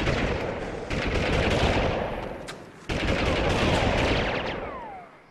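Sustained, loud machine-gun fire in the video game Army Men 3D rattles in long continuous bursts, with a brief break before a second volley.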